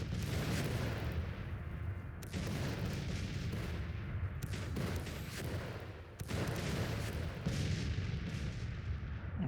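Continuous artillery fire in the Civil War strategy game Grand Tactician, a dense rumbling barrage of overlapping cannon booms with a few sharper distinct blasts, loud and sustained throughout.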